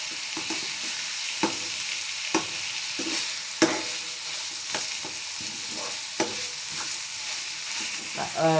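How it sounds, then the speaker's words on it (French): Minced beef browning over medium heat in a frying pan with onion, a dense continuous sizzle broken by regular spatula scrapes and taps, close and fairly loud with no talking. "j'ajoute la viande hachée et je laisse rissoler à feu moyen"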